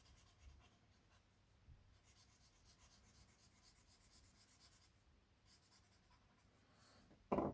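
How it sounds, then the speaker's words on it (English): A very soft pencil shades across paper in close, quiet strokes, a faint steady scratchy rubbing with a gentle back-and-forth rhythm, ending in a brief louder bump. "mine blends very easy because it's a very soft pencil"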